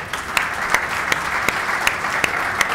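An audience at a talk on the Argentine IT market applauds for Gustavo, a loud, even wash of clapping with a regular sharp rhythmic clap standing out about every third of a second.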